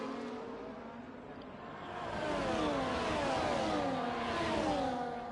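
Ferrari and Red Bull Formula-style race cars howl past in a racing video game, their engines revving and rising in pitch as they accelerate, with the sound swelling louder toward the middle of the stretch and staying high.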